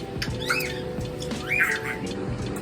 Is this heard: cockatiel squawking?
yes